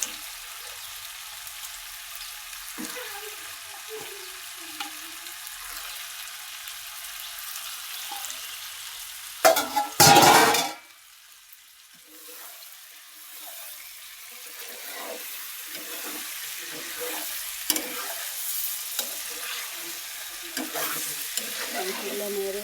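Chicken pieces fry in a spiced masala in a pan, a steady sizzle punctuated by a loud burst about midway as the meat goes in, followed by stirring and scraping sounds.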